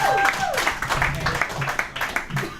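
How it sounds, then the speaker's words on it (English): Brief, uneven applause from the audience at a live show closes the evening, with scattered claps and a few voices rising over it. "let's give a nice big round of applause for Mike, the real deal Mills, as he closes off tonight's show."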